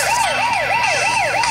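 A police car siren wails in the video game Turbo Dismount, a loud, rapid up-and-down electronic yelp repeating about every 0.3 seconds, steady and close, with no talking.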